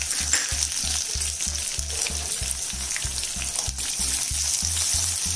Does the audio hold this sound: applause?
no